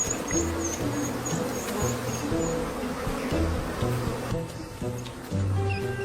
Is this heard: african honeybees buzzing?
yes